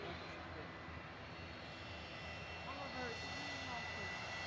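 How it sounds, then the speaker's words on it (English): A Pilatus PC-24 business jet at Manchester Airport, a continuous faint engine rumble and hiss with a thin tonal whine, steady and distant throughout, with a voice audible over it. "Silver Aviation G Silver, GSLVA, Pilatus PC24, heading over to Faro on the south coast of Portugal."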